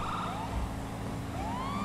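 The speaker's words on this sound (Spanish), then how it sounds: "¿Por qué no tengo sirena? Ahora." A police siren wails in GTA V with the LSPDFR mod, rising and falling in long sweeps over a steady engine rumble, loud and close throughout.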